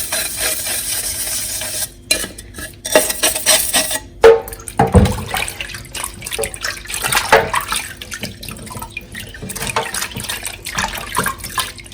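Clean running water rinses soap off both sides of an antique-style DIY mirror. A tap streams and splashes steadily, broken by short pauses and shifting splashes as the piece is moved under the flow.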